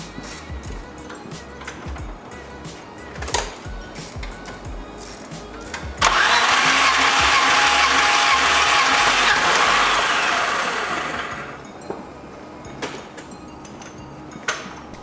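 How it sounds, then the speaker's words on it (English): A BMW E30 with an M20 engine cranks over during a compression test, with a loud, steady starter whir lasting several seconds before fading, framed by quieter clicks and handling noises. "we're gonna crank over the car 5 times, and then we'll check what the number is."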